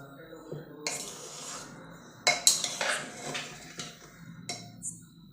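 Cooked rice is stirred with a metal utensil inside a pressure cooker, giving irregular scraping and clinking strokes against the pot, with a few sharper metallic knocks, fairly close and clear.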